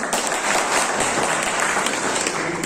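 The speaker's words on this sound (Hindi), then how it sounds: "जोरदार तालियों में स्वागत।" Loud, sustained applause fills a BJP party office as a veteran party leader is welcomed in Rajasthan, a dense unbroken wash of many hands clapping close by.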